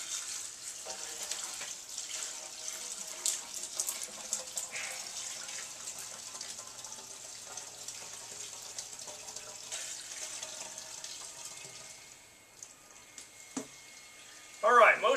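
Isopropyl alcohol is poured from an awkward vessel, a steady trickling, splashing liquid stream running for several seconds before thinning out, with a few clinks and a brief voice near the end.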